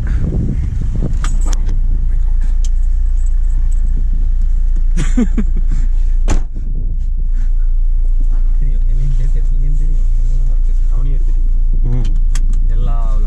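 Interior of a Maruti Swift VDI diesel hatchback on a drive, a steady low engine and road hum throughout, with scattered clicks and rattles and people talking inside the cabin.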